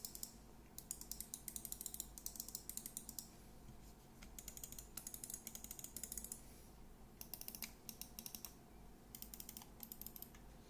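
Sharp, close computer mouse button clicks from a Zowie Comfy S, fired in quick rapid bursts separated by short pauses, crisp and loud against a quiet background with no talking.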